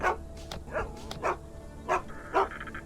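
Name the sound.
dogs barking in Sherlock Holmes: The Awakened video game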